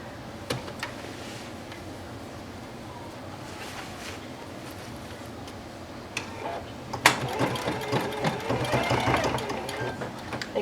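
A sewing machine straight-stitches a letterman jacket sleeve back together, a steady low mechanical whir with soft ticking, running continuously and growing busier and louder near the end.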